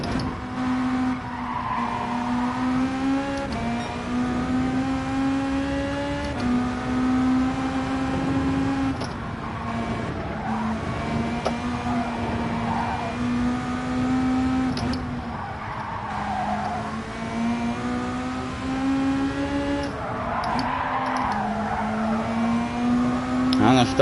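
Race cars in Gran Turismo 7 give a sustained engine drone that climbs and drops in pitch through repeated gear changes, with tire squeal and a voice talking over it.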